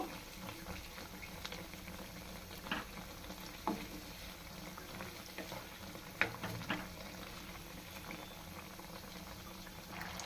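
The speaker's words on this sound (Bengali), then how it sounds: "আমি 4টা দিয়ে 4টা ভেজে নিয়ে তারপর অন্যগুলো আবার ভেজে নেব" Vegetable rolls fry in hot oil with steady bubbling, a soft continuous sizzle with occasional pops and faint clatters, no talking.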